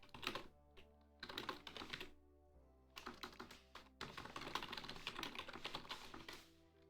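A cheap $13 computer keyboard from Officeworks clatters under fast typing, dense clicky bursts of keystrokes split by short pauses, close and fairly loud with no talking.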